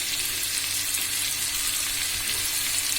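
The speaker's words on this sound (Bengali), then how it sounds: "এবার দিব 1 টেবিল চামচ শুকনো মরিচ বাটা" Dried red chili paste sizzles in a hot pan for a Bengali stir-fry of taro stolons and shrimp, a steady close hiss of oil with a faint low hum underneath, no voices.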